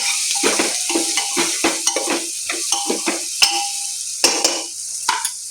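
Spoon scraping and stirring biryani masala through masala rice in a metal pan, a steady run of close scrapes and clinks over a light frying sizzle, with no talking.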